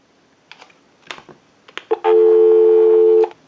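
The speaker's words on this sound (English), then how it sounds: "Go ahead and give you some dial tone." A few soft clicks and taps on a Western Electric Princess telephone, then a steady, loud dial tone hums continuously for over a second before stopping.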